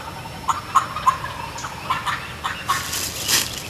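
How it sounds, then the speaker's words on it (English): A wild turkey gobbles several times at a distance in the Missouri Ozarks in early March, faint rattling calls rising over a steady outdoor hiss with no voices. "Gobbling is good."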